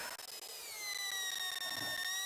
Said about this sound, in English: It's placing something on a rock. What's it doing now? It's drilling the rock.